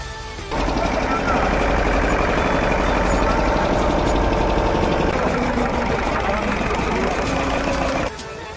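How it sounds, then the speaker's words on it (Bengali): A trawler boat's engine drones in a loud, steady, close mechanical chug during a river crossing to Mayapur. It starts abruptly, holds an even rhythm for several seconds and then cuts back down. "তারপর এই যে ট্রলার ধরে ফেলেছি, দেখতে পাচ্ছ।"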